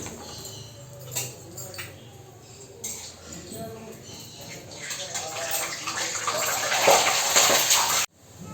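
Hot water poured into a cooking pot for a chicken curry, a rushing, splashing pour that swells steadily louder over several seconds and then cuts off abruptly. A voice can be heard over the start, and birds coo in the background.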